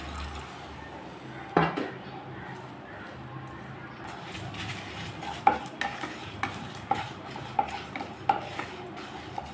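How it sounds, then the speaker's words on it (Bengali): Whole coriander, fennel and cumin dry-roasting in an empty pan, with light scraping and stirring throughout and a few sharper clinks of a utensil against the metal, faint and close. "এখন এগুলোকে আমি খালি খোলায় ভেজে নেব।"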